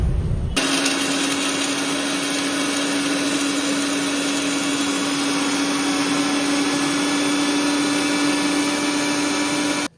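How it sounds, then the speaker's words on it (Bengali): An electric blender grinds pistachios into a fine green powder, starting abruptly and holding a loud, steady whirring drone with a constant motor whine for several seconds before cutting off. "এখন আমরা পেস্তা বাদামগুলো ব্লেন্ডার করে নিব"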